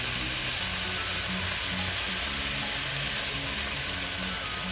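Soy sauce pours into a hot pan of spicy pig's heart and daikon stew, which hisses with a loud, steady sizzle from start to finish.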